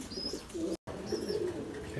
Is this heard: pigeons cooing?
yes